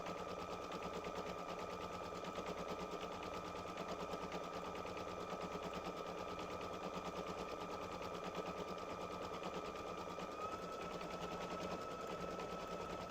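An embroidery machine stitching a candy cane gift tag design in black thread gives a rapid, steady mechanical rattle of needle strokes, constant and moderately quiet throughout with no talking.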